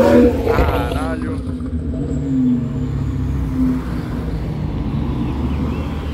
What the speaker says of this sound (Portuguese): McLaren 720 Gulf tá vindo ali